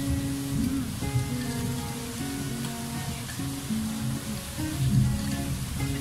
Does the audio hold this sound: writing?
no